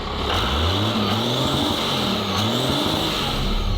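Twin-turbo Ford Ranger truck backing onto a dyno, a steady loud engine rumble with some tire noise running throughout without a break, no talk over it.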